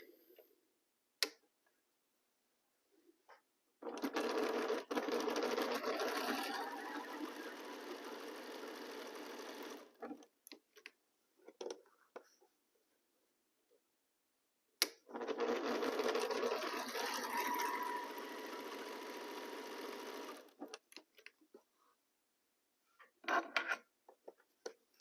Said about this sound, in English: We start sewing.